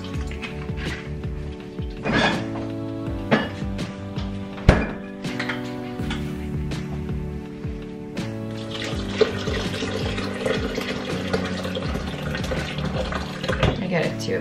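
Water and milk are poured into a mug for matcha, with a steady liquid stream and several sharp clunks of containers being set down, heard up close over faint music.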